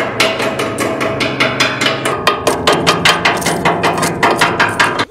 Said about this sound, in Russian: поэтому чистим просто молоточками. Технология такая, надо бить по касательной.